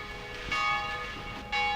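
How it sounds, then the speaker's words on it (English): Monastery church bells ring out to call Trappist brothers to prayer, two distinct strikes about a second apart with long sustained ringing tones, moderately distant and alone. "all work stops when the bells call the brothers to prayer."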